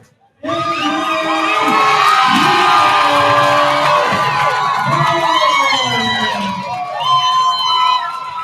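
A boxing crowd at the Eclipse event, Airtight Boxing Civil War, breaks into loud, sustained cheering and shouting that swells suddenly and keeps up for several seconds with scattered whoops.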